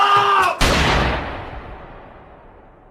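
A single loud, close gunshot from a film scene cracks out after a short tonal passage, its boom decaying slowly over the following seconds.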